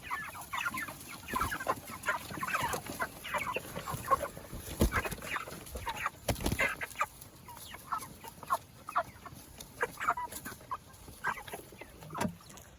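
Cornish Cross meat chickens on a homestead clucking at feeding time, a busy chorus of overlapping clucks and squawks from a flock close by, with occasional louder bursts and no talk.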